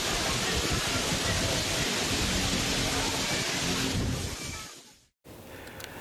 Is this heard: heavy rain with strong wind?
yes